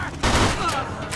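Gunfire erupts in the video game Mafia 2, a burst of loud rapid shots crackling close by for about a second.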